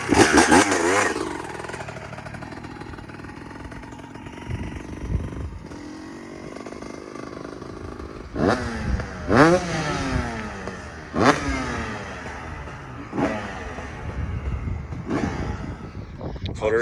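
A Honda CR250 two-stroke engine on a trike build starts up and idles with a raspy gurgle, then revs in a series of sharp, nearby bursts. Wind buffets the microphone and voices are faintly heard.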